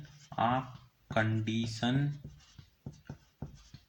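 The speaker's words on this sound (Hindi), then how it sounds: "तो मैं लिख देता हूँ" A teacher in a Class 10 science lesson writes on a board, with faint, brief scratchy marker or chalk strokes heard under and between his continuous talking.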